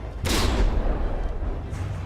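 A warship's cannon fires in the naval combat game From The Depths during a frigate tournament battle, a single loud booming shot followed by a rumbling tail.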